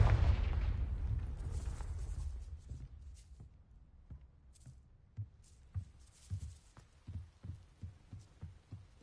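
A Confringo spell goes off in Hogwarts Legacy, opening with a loud booming blast that fades into rumbling. A string of shorter thuds and impacts follows, close and fairly loud.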